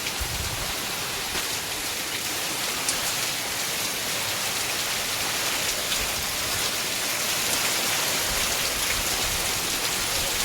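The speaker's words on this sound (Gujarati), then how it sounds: "બહુ જોરદાર વરસાદ ઘડીકમાં મંડાઈ પડ્યો." Heavy monsoon rain pours down on a farm, a dense, unbroken roar of drops hitting surfaces all around, steady and loud throughout with no talking.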